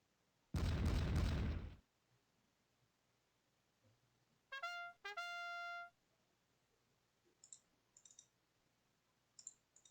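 Cannon fire in the video game Pike and Shot during a Polish versus Ottoman battle: one loud, broad boom near the start, followed by brief tonal interface clicks and faint scattered pops.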